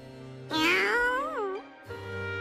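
A single long, close meow from a cat in the video game Sword Art Online Alicization Lycoris, rising and then bending down, loud and clear over quiet ambient sound.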